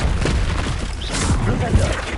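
Bombarda explosion spell cast in Hogwarts Legacy, giving a dull boom in the middle of steady, busy combat noise.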